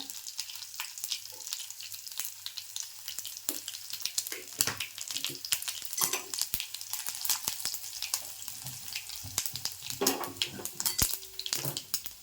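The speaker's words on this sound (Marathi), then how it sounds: "थोडासा हिंग पण टाकायचा फोडणीला." Asafoetida and crushed garlic crackling in a hot oil tempering with cumin and mustard seeds for a Malvani tomato curry, a steady close sizzle with sharp pops and occasional spoon scrapes throughout.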